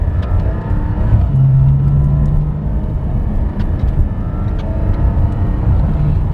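A Porsche GT4 with a PDK gearbox drives the Nemuno žiedas race track, its engine a loud, steady rumble with brief rising revs, heard from close by.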